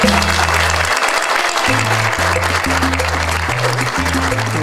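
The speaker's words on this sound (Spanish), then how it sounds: "Por favor, un aplauso a la prensa." A crowd applauds the press at a farewell event for a salsa singer, loud continuous clapping over a sustained low musical tone, with brief voices mixed in.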